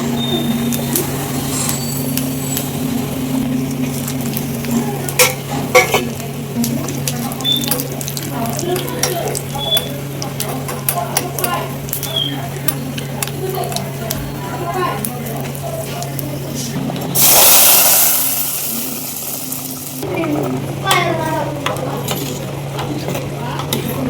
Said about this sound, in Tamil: தாளிப்புக்கு எண்ணெய் ஊற்றிக்குவோம்.